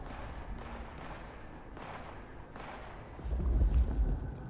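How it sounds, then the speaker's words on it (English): Gunshots in Vampire: The Masquerade Bloodlines 2 come as a few muffled, distant thumps spaced apart, followed by a heavier, louder booming rumble near the end. "I can hear the gunshots"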